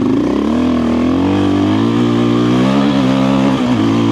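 A motorcycle fitted with a Dobeck EJK fuel controller accelerates hard in second gear at the base of a hill climb, its engine note loud, close and steady, pitch rising smoothly as it pulls.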